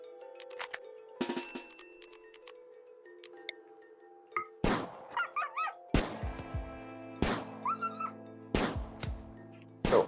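Game weapon firing in a RimWorld mod: a short series of sharp, punchy bursts repeating at roughly even intervals, each with a ringing tonal tail, preceded by quieter clicks and thuds.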